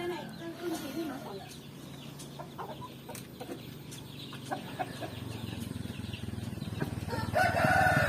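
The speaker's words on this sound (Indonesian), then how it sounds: "Tuh pitik." Free-range village chickens cluck around a rural yard, with a rooster crowing among them. The clucks come steadily at close to middle distance while people talk in the background.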